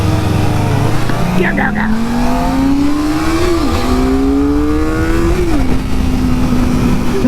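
Kawasaki ZX-4RR motorcycle accelerating through the gears during a first ride: the engine pitch climbs steadily, dips briefly at each of two upshifts, then rises again, loud and close, with wind rush and a rider's voice shouting briefly.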